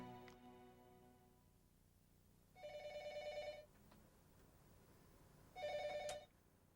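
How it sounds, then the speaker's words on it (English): Two bursts of an electronic telephone ring, each about a second long and separated by a pause, sound fairly clearly over a quiet room hiss with no talking. "Mr. Tanaka received a phone call from a journalist on November 28, 1991"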